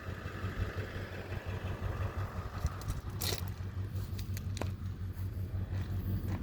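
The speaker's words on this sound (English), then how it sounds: "Still a 4-cylinder Komatsu engine." A small Komatsu dozer with a four-cylinder engine runs steadily outdoors, a continuous low diesel rumble with a constant drone, overlaid by intermittent scraping and clanking, with no talk.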